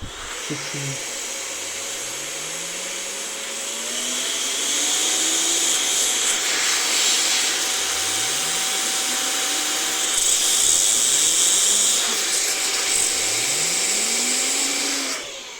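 A steady, loud electric mains-powered air blower whirs continuously while cleaning a computer, its pitch sweeping up and down repeatedly as it blasts air, with strong hissing throughout.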